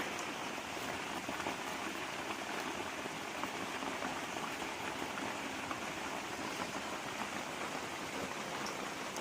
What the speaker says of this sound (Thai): หนาวมากฝนตกยิ่งหนาวเลย